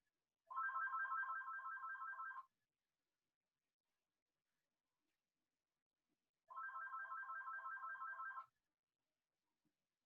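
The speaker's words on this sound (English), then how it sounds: "Now my phone is ringing." A mobile phone ringtone plays in two separate bursts of rapid warbling electronic beeps, each lasting about two seconds with a long silent gap between, fairly faint and heard on its own.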